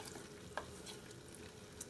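A spoon stirs jackfruit curry in a pot, with soft, faint scraping and wet shuffling and one or two light clinks against the metal.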